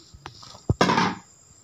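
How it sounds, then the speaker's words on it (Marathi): Rice and dal tipped into a pressure cooker: a single close, rushing pour of grains that lasts about half a second, preceded by a couple of light knocks against the pot. "चला तर मी आता यामध्ये हे आपले तांदूळ आणि डाळ टाकून घेते"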